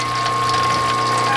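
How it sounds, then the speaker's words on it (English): A Wadkin RM machine's power feed running at its slowest speed, giving a steady, continuous mechanical ratcheting and gear whir with a constant hum, close and moderately loud. "I believe that's running, that's the 20 feet, the slowest revolutions per minute."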